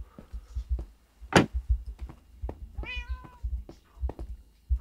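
A cat from the Minecraft video game meows once clearly mid-clip, amid scattered footstep-like thumps and other game sounds.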